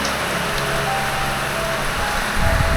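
Steady rain falls at 3 a.m. while travellers wait for a boat at Sei Ular on the Malaysia–Borneo route, a dense even patter all around, with a low rumble rising near the end.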